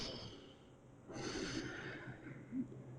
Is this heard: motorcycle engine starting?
no